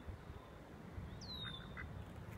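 Faint quacking from ducks, a few short calls over a low rumbling background, somewhat distant.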